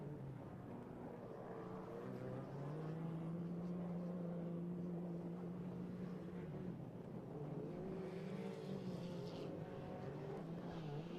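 Off-road race cars at the King Shocks race in Primm, Nevada, drone steadily in the distance, their engine tones rising and falling in long sweeps under a constant wash of wind and crowd ambience.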